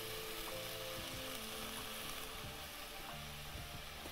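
Wild leafy greens and soaked moong dal frying in a pan, a steady close hiss of sizzling oil with a few soft stirring knocks throughout, no voices.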